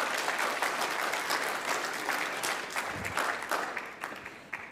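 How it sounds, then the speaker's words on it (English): Church congregation applauding to welcome someone at a service, steady dense clapping filling the room throughout without a break. "you might like to put your hands together"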